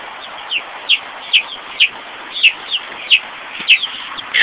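Chickens cluck in short, sharp, repeated calls, roughly one or two per second, loud and close over a constant background hiss, with no talking.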